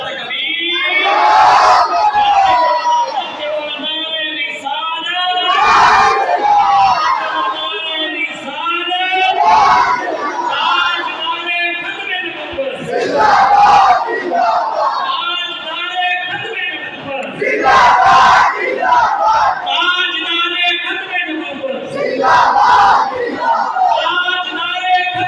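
A large crowd at a Sufi religious gathering with naat recitation chants the Islamic slogan Nara-e-Takbeer, loud massed voices rising in repeated surging waves that swell and fall across the whole stretch.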